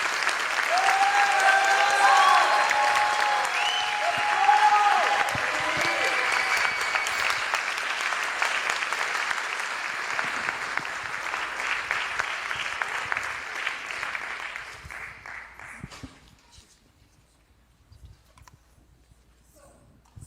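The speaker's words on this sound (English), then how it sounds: "So please give her a big round of applause" Audience applause for a Bharatanatyam dancer after her arangetram performance. A crowd claps loudly and steadily for about fifteen seconds, then fades to scattered claps and near quiet.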